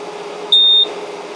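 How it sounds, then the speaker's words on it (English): One short, high-pitched electronic beep from a Liebert 3000VA UPS sounds over a steady low hum. "then it beeps"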